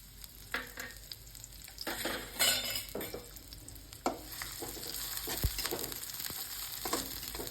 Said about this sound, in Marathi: तेल गरम झालेलं आहे आपण टाकून घेऊया कापलेला कांदा